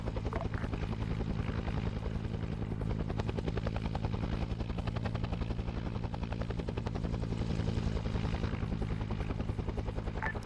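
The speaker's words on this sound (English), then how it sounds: "Heli's here." A helicopter in a Vietnam War combat video game arrives overhead, its rotor throbbing loud and steady across the whole stretch, with no talking.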